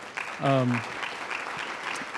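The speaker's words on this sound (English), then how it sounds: "I think we definitely owe them a round of applause for our panelists here today" An audience at an employer forum and awards event claps for a panel, a light, fairly distant round of applause beneath a short spoken voice.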